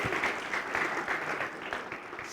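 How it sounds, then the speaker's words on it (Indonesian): A church congregation claps together in steady, even applause, a moderately close crowd sound filling the whole short moment. "boleh beri tepuk tangan"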